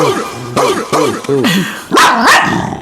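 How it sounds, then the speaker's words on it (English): Dogs bark loudly and close in a rapid series of yips and bow-wows, several sharp barks in a row ending in higher excited yelps. "The dogs are back."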